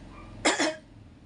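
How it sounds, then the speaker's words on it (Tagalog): A single close double cough, sharp and brief, against quiet background. "Pasensya na sa ubo"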